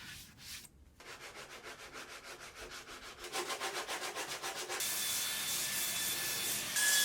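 Excess material is sanded off a chambered wooden surfboard in steady, rhythmic back-and-forth strokes, a close, continuous abrasive rasp that grows louder and denser toward the end, with no voices.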